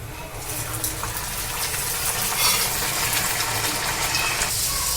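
A chickpea kachori fries in hot oil, giving a steady, dense sizzle and bubbling hiss that carries on throughout, close and fairly loud, with no talking.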